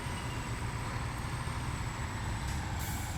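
Spintires truck idles with a constant deep engine rumble, while a steady high-pitched air-brake hiss sits over it and a couple of faint clicks or beeps come near the end.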